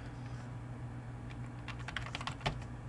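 Faint keystrokes on a computer keyboard while entering Lisp code, a quiet stretch giving way to a quick run of clicks near the end over a low electrical hum.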